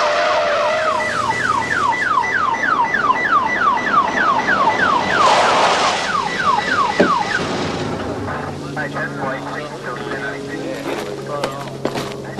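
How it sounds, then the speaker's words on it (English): A close, loud ambulance siren wails in rapid repeated rising sweeps in a 1991 drama scene. It breaks off after about seven seconds, leaving scattered knocks and background noise. "Got an ambulance on the way."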